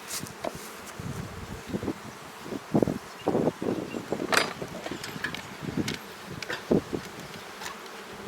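Honeybees buzzing around a beehive during a spring inspection, a constant close hum with individual bees zipping past the microphone amid light rustling.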